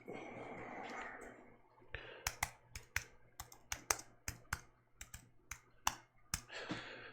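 A computer keyboard clatters with a quick, uneven burst of sharp close key clicks, bracketed by brief murmured talk at the start and end.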